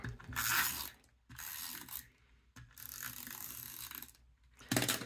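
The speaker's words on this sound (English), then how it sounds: "That's a really loud tape runner." A tape runner lays adhesive tape onto scrapbook paper, giving loud ratcheting mechanical clicks in three close bursts separated by brief pauses.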